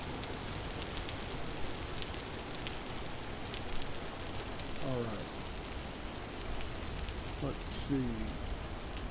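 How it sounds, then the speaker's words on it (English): Steady rain falls in the survival video game Vintage Story as a soft, continuous hiss of drops, with a few brief spoken words over it. "And we're back to the damn rain."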